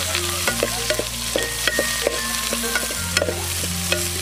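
Green chilies and onions with curry leaves fry in oil in a pan for a village-style crab curry, a close continuous sizzle with regular stirring scrapes and clinks, no talking.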